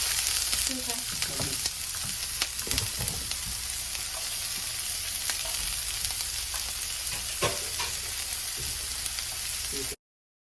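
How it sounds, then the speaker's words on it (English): Diced onion sizzles steadily in olive oil in a hot pan, a continuous bright frying hiss with occasional stirring clicks and scrapes, close and even throughout before stopping abruptly. "Add 2 teaspoons of olive oil, diced onion into a hot pan"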